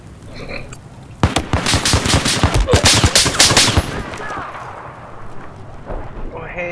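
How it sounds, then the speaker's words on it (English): Suppressed machine gun fire from a Battlefield 4 close-quarters match, a rapid burst of loud muffled shots lasting a few seconds, with other game sounds before and after. "I have a candy colored machine gun with the suppressor."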